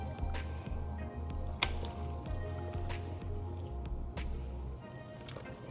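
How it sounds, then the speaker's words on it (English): Seasoning being poured into the cavity of a whole turkey for roasting gives soft, close wet squishing and trickling sounds with a few sharp clicks, steady throughout and with no talking. "Now I'm gonna take the rest of that seasoning and just pour it inside."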